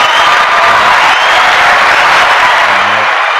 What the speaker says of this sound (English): Can I get him a round of applause?